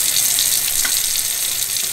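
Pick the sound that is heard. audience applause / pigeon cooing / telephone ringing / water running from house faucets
water running from house faucets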